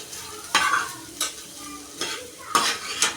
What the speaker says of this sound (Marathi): बटाटे आपण टाकून घेऊन चांगले मिक्स करून घेऊ.